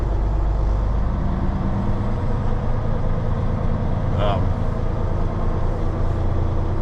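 A truck slowly reverses out of a small, muddy lot, its engine rumbling steadily and close throughout, with a short hiss of air near the middle; a voice talks over the engine noise.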